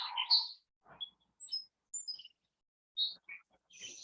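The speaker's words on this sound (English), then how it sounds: "Listen to the beautiful melody of a song sparrow." A song sparrow sings a series of short, high, clear chirps and brief trills in quiet surroundings in Maryland, with the notes spaced apart and moderately near.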